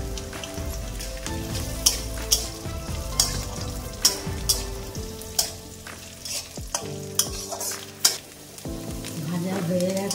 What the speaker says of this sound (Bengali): আমি এগুলো ঘিয়ে ভেজে নেবো এক এক করে